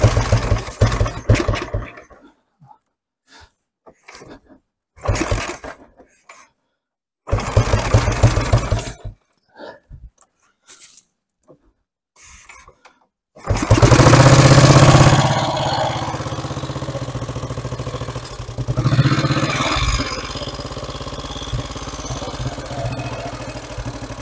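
A 1939 Rudge Ulster motorcycle, its warm single-cylinder engine turned over in short bursts amid quiet gaps, then catching and running loud and close with a blip of throttle before settling into a rough, steady idle.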